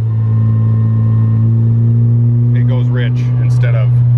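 A turbocharged B18 engine in a Honda Civic EK hatchback runs on a dyno with a loud, steady drone throughout. A voice talks over it in the second half.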